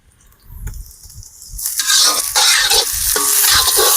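Onions with ginger-garlic paste frying in a pan for a village-style goat skin fry, with a loud, continuous sizzle and the scrape of a spoon stirring them, growing louder after a quiet start.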